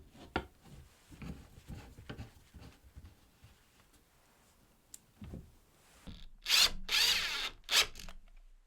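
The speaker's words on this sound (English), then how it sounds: "Then I can get some screws on." Power drill drives screws into a thin MDF saw stand cabinet, several short, loud whirring bursts near the end after quieter scattered handling knocks and taps.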